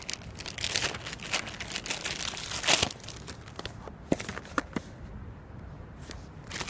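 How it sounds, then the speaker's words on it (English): Plastic bag around an Anker battery crinkling and rustling in irregular bursts during unboxing, close and fairly quiet, with a few sharper crackles. "Comes in a plastic bag."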